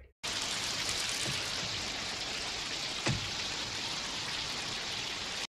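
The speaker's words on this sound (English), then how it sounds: "And it's raining." Steady heavy rain hisses evenly from a scene in the film Aliens, a continuous dense wash of falling water with one brief sharp crack midway, ending abruptly.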